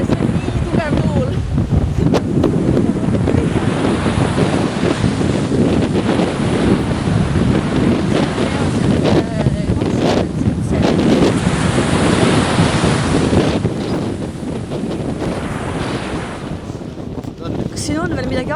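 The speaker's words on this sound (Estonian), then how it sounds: "See ei ole normaalne, see on nii tugev tuul." Strong, gusting wind roaring through a winter forest at night, loud and continuous with heavy buffeting against the microphone, easing slightly near the end; people shout briefly under the roar.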